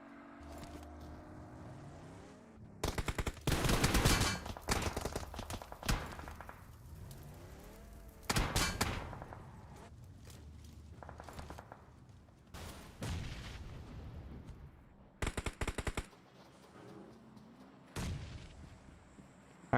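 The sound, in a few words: gunfire from a DBS gun in a video game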